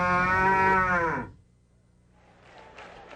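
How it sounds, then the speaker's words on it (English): Cattle at the Omaha livestock market let out one loud, deep, close moo lasting over a second, then it falls to low room hum with faint background noise. "This is the Omaha livestock market where they sell cattle."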